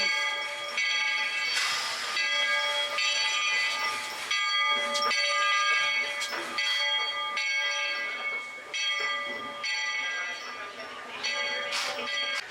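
A bell clangs repeatedly over a rumbling, hissing Magic Kingdom theme park train pulling in, with a steady mechanical din and a few metallic rings throughout.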